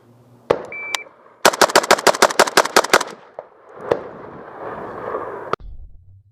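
A rapid string of about ten rifle shots from an M4 at a target five yards away, loud, sharp and evenly spaced, followed by a couple of isolated cracks, with a timer beep before the string.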